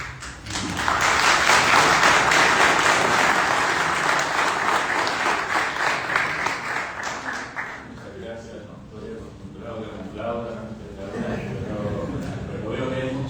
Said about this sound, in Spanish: lo entiendo no como un aplauso a mi persona, sino que al autor